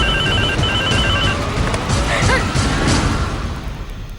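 A telephone bell rings in a Telugu comedy serial, sounding as a rapid warbling ring in two short bursts over a noisy, clattering room before the ringing stops.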